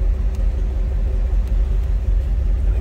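A 1957 Ford Fairlane 500 Club Sedan engine idles steadily with a deep, even low rumble, close and continuous throughout with no talking.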